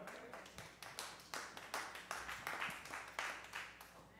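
Church congregation clapping in a steady rhythmic beat, roughly three claps a second, fairly faint and reverberant in the hall.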